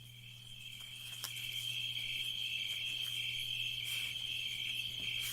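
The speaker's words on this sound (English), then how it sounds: "wow. Crickets." Crickets chirp in a steady, continuous high trill outdoors at night, fairly faint, with a low constant hum beneath and no talking.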